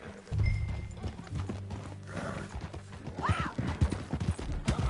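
Hooves clip-clop steadily while a horse whinnies loudly partway through, over a busy Red Dead Redemption 2 game soundscape with occasional low voices.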